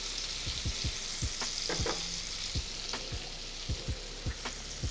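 Shallot sizzles steadily in a hot pan for a fish and grits dish, with a bright frying hiss and scattered spatula scrapes and taps as it is stirred.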